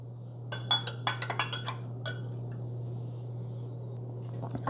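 A spoon clinks against coffee cups while stirring in creamer, a quick cluster of bright ceramic taps followed by a single later clink, over a steady low hum.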